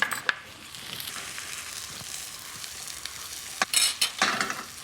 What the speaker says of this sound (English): The potatoes are getting golden in the pan